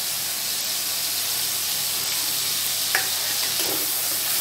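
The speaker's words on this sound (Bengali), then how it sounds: "আমি এবার আদা রসুন পেস্টটা দিয়ে দেবো।" Ginger garlic paste hits softened tomatoes in a hot pan, giving a steady, close sizzle and hiss with a couple of faint stirring knocks, and no talking.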